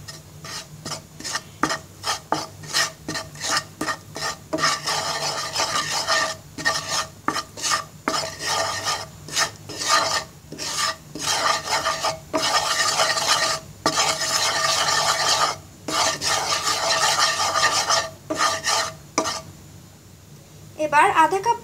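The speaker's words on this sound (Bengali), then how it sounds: "এবার ভালো করে ময়দাটাকে ভেজে নিব" Flour for a homemade white sauce is stirred and toasted in a pan, the spoon scraping in repeated rhythmic strokes against the metal over a soft sizzle, with brief pauses near the end.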